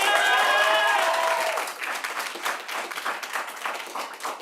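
Audience applause at a school board meeting, a loud dense burst of clapping that tapers into scattered claps over about four seconds.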